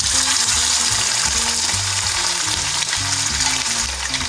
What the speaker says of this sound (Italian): L'olio si è riscaldato, mettiamo la nostra arista nell'olio a sigillare